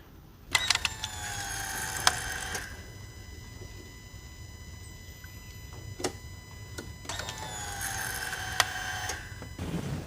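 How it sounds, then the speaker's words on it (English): A mechanical whirring and clicking hum with two louder bursts as a newly replaced high-pressure fuel pump on a SCAG Cheetah II mower primes and draws fuel, fairly quiet with no speech. "I can actually hear the fuel sucking into it this time."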